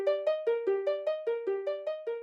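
Minecraft note blocks play a simple cover of a video game track as a steady run of about eleven plucked, bell-like notes alternating between two close pitches. Each note decays quickly and the sequence is soft and even, with no talking.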